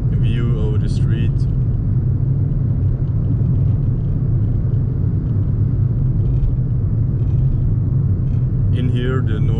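Road noise heard from inside a VW Fox 54hp during a test drive: a steady, loud low rumble of tyres and engine fills the cabin throughout, with brief voice-like sounds near the start and end.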